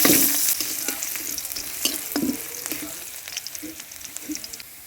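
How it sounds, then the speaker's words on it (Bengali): Dried red chillies, whole cumin, bay leaves, chopped onion and garlic frying in hot oil in a wok, a loud sizzle that settles into a crackling hiss with scattered pops as it is stirred. "কড়াইতে আবারও তেল দিয়ে দেব কড়াইতে দিয়ে দেব দুইটা শুকনা ঝাল গোটা জিরা দুইটা তেজপাতা আর দিয়ে দেব কুচানো পেঁয়াজ রসুন"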